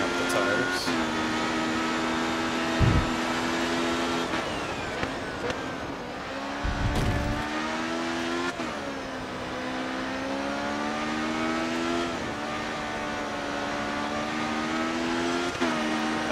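A race car engine in Grid Autosport revs and climbs in pitch, drops on each gear change and climbs again in a loud, continuous whine, with brief thuds now and then.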